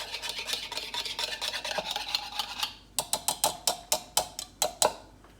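Quinoa salad being mixed in a bowl: a steady wet rubbing and scraping gives way to about eight distinct, evenly spaced stirring strokes, close and fairly loud, with no talking.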